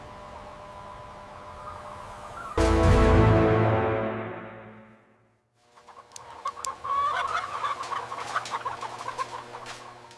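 Chickens at a modern poultry farm cluck and chatter in a dense flock, following a loud mechanical burst that dies away into a brief lull before the birds' calls resume nearby.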